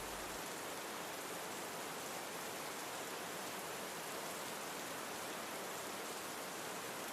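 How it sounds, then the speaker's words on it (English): Steady rain falling outside a cabin at night, an even, dense hiss with no change in level, soft and constant with no other sounds. "The rain outside fades into the distance, becoming softer, quieter."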